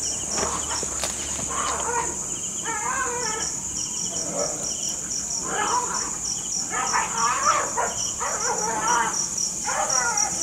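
Dog barking somewhere near an isolated night-time spot, several short barks in bursts over a constant high cricket drone, moderately close, with faint voices and footsteps.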